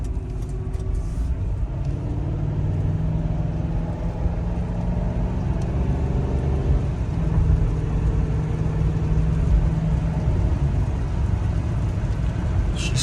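A 2004 Lincoln Town Car with low mileage drives along, its engine giving a steady low hum and road rumble that holds evenly throughout, with no talking.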